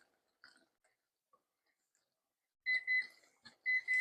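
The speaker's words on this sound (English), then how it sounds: "Okay, there's our timer." Kitchen timer going off while cooking no-bake cookies on the stovetop: after a few faint clicks, a close, clear electronic beeping sounds in two quick bursts.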